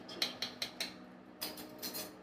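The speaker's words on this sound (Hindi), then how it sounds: "ये जो थोड़ा मोटा मोटा सा मटेरियल बच जाता है ना, उसको ऐसे स्पून से ऐसे प्रेस कर दीजिए।" Spoon pressing cocoa powder lumps through a metal sieve, a series of quiet, sharp metallic taps and scrapes, four evenly spaced then a couple more after a short pause.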